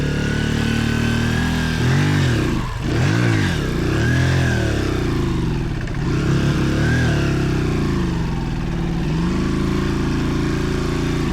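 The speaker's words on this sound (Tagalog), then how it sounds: "Walang power yung motor, hindi umangat." A trail motorcycle engine revs hard and labors on a climb, loud and close, its pitch repeatedly rising and dipping as it strains for power without speech.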